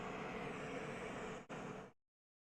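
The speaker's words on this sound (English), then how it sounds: "So this is the white noise app. Airplane cabin." Steady airplane cabin white noise from a white noise app, a broad, even hiss and rumble that briefly dips, resumes, then cuts off abruptly into silence.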